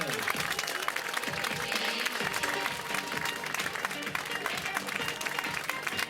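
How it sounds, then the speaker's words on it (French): Crowd applauds the girls' and boys' podium finishers at a 10 km road race prize ceremony in Seurre, dense clapping with cheering voices throughout, loud and continuous. "Un tonnerre d'applaudissements pour le podium des filles et des garçons"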